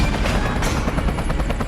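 A helicopter being destroyed in the PS2 James Bond game 007 Everything or Nothing, a loud continuous rotor roar mixed with gunfire-like bursts, dense and close throughout the short moment.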